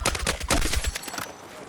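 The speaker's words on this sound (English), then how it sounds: "A couple of little pot shots at a chopper sometimes." Short volley of gunfire at a helicopter in Battlefield 6, several quick close shots in a cluster that fade out after about a second amid low battlefield rumble.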